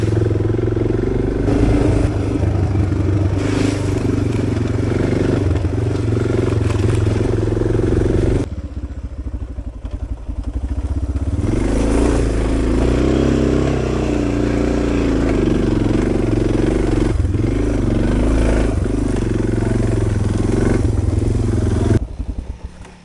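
Motorcycle ridden on dirt and mud toward a remote fire lookout, the engine droning loud and close with rising and falling revs, a brief drop in throttle midway and clattering from the rough track.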